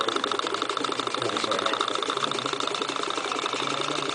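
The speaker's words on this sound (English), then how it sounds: "Stirling hot air engine" A small Bohm Stirling hot air engine runs with a steady, rapid mechanical whirr and ticking, close and continuous, with a voice speaking faintly in the background.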